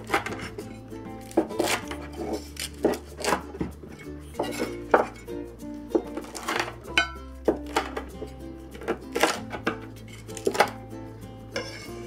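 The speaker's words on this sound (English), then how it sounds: "now what we're gonna do is cut the noodles into little squares" A knife cuts crispy Hawaiian-style cake noodles into little squares, giving irregular crunchy chops and thuds with occasional clinks of utensils.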